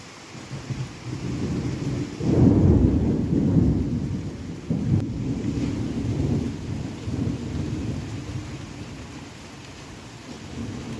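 Thunder rolls in during a rainstorm, swelling into a deep, heavy rumble after about two seconds, then slowly fading over a steady wash of rain; no one speaks.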